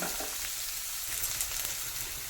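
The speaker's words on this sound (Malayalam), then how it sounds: "വെളുത്തുള്ളിയും പച്ചമുളകും അവമ്പാഴൊക്കെ ഇട്ടു നമ്മൾ വാടിക്കൊക്കെ" Garlic and green chilies sizzle steadily in a hot pan, a dense continuous frying hiss with no voices over it.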